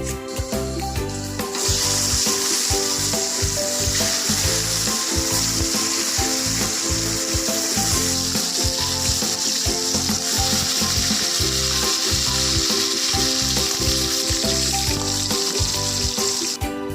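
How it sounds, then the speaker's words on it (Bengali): Potato pieces coated with salt and turmeric frying in oil for a mutton curry, a steady hissing sizzle running continuously under loud rhythmic background music. "আমাদের আলু ভাজা হয়ে গেছে"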